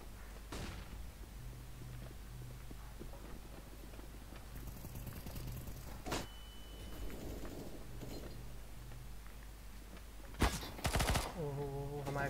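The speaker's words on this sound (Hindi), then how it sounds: "वो दोनों ने एक साथ फायरिंग शुरू कर दी" Gunfire in the video game Counter-Strike: a few sharp single shots are spread across a murmur of game noise, then a dense, loud burst of rapid fire comes near the end.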